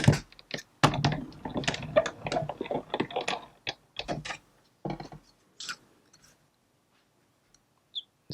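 A die cutting machine runs card stock through with a pot-shaped die during a Stampin' Up! card project, giving close, repeated ratcheting clicks and grinding bursts for about five seconds before a few scattered taps and quiet.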